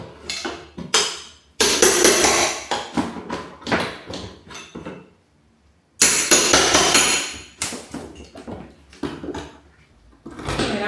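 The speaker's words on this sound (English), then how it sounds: "a flat bar and a hammer, and I'm just kind of going in behind it until I can loosen it" A hammer and flat bar pry old window trim off a historic house during demolition prep: loud, close, repeated hammer strikes and wood-cracking knocks in two clusters, with creaks and a quiet gap between.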